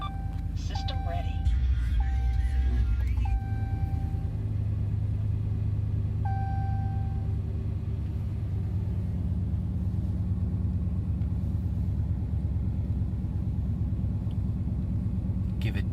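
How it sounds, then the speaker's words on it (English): A 2014 Ram 1500 Sport 4x4 with a HEMI V8 idles in a steady, low rumble throughout, with brief electronic chimes and tones early on. "take a listen to this HEMI V8."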